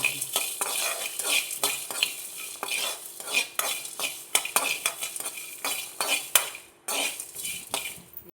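Garlic and peppercorns frying in a pan for a lake fish curry, with frequent metal spoon scrapes and clinks over a light sizzle, alone and close.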